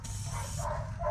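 A dog barks somewhere in a residential neighborhood, a short muffled woof or two carried over steady low background noise.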